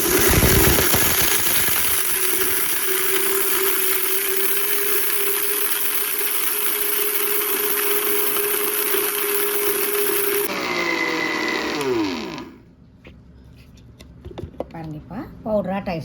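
A home mixer grinder runs loud and steady, whirring as it grinds a homemade spicy masala powder, then winds down and stops near the end, leaving a few faint clinks.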